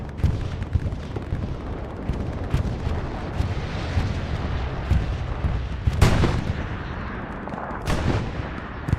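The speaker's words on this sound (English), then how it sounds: "Bombing run is coming in." Bombing run in the World War II shooter game Hell Let Loose on a night map: a dense, continuous rumble of explosions and distant gunfire, with heavier booming blasts standing out near the middle and toward the end.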